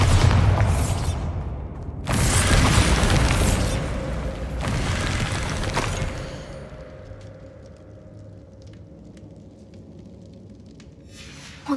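Bombarda exploding spell in the video game Hogwarts Legacy: several loud, deep booming blasts in the first half, the biggest around two seconds in, each rumbling off before things settle into a quieter ambient tail.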